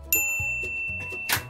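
A short, bright notification ding rings out once over quiet background music, clear and close.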